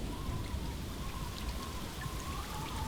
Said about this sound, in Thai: ฝนตกฟ้าร้อง